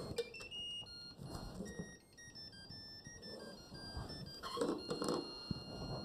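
A quiet electric water boiler plays a series of high electronic beeps and short tones after reboil is pressed, alternating pitches over a faint background hum.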